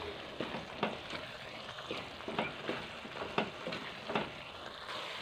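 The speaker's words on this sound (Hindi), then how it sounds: "इसको मैं अच्छी तरह मिक्स कर लूँगा और इसको थोड़ा सा फ्राई करूँगा 5 से 7 मिनट, ताकि मसाला हमारा फ्राई हो जाए" Masala with coriander powder fries for a fish curry, a constant soft sizzle under repeated close scrapes of a spoon stirring the pan at an even pace, with no talking.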